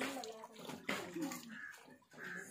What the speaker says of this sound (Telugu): కావాలంటే అటువైపు నుంచి నీళ్ళు వేసేస్తాడు మా మీద